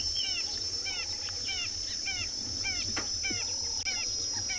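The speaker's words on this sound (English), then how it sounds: "Can hear all the ring-necked doves calling around us." Repeated soft calls of ring-necked doves in a steady outdoor chorus at sunset, several doves calling around at moderate distance over a constant high insect-like hum.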